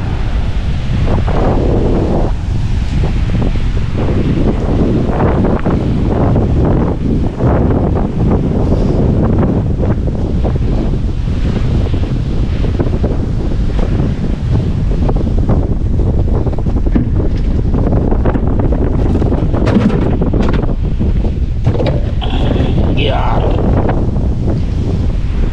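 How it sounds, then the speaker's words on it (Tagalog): A strong storm in the Philippines sends heavy wind and rain battering the microphone on a boat. The roar is loud and constant throughout, gusting without a break, with waves and water rushing underneath. "At medyo nalakas-lakas na ang hangin at ulan."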